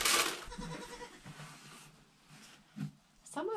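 A Nigerian Dwarf goat bleats loudly and close at the start, then gives a second shorter bleat near the end, with quieter rustling and movement in between.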